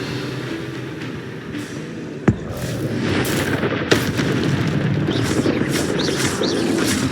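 Confringo spell explosions in the Hogwarts Legacy video game: two sharp blasts, the second smaller, over a dense, loud, continuous rumble of combat effects, with no talking.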